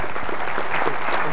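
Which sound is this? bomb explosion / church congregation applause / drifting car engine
church congregation applause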